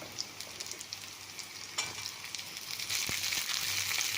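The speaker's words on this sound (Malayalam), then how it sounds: "അരിഞ്ഞ് വെച്ച് വെണ്ടക്കായ ഇട്ട് കൊടുക്കാം." Chopped okra and onion sauté in a pan for a potato and okra masala curry, giving a steady close sizzle. Occasional stirring clicks and scrapes punctuate it, and the frying grows louder near the end.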